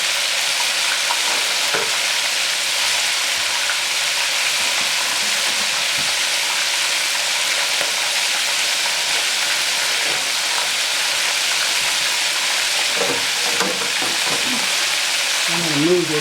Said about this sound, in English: I'm deep frying these